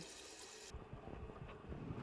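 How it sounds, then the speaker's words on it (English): Water runs from a sink tap in a steady, faint wash, with a brighter gush at the start that drops away before the flow carries on quietly. "Use your paper to turn off the water."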